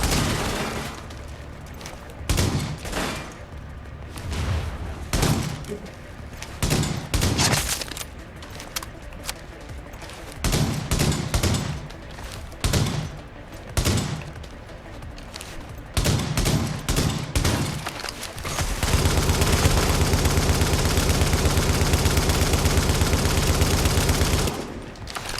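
Rapid bursts of automatic gunfire crackle in repeated volleys as enemies are shot in the video game The Division, ending in a long continuous barrage, loud and close.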